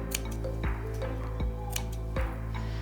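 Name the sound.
scissors clipping fabric of face mask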